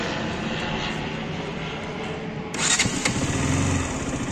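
A 2023 KTM RC200 motorcycle's single-cylinder engine starts with the electric self-start, a steady whirring hum followed by a sudden louder catch and rougher idle, close and alone.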